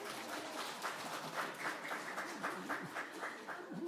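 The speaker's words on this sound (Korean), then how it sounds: "뭐 가사가 이해가 돼서 뭐 박수를 치시는 것 같은데" Applause from a congregation at a Sunday year-end worship service in a church, steady soft clapping with a voice speaking over it throughout.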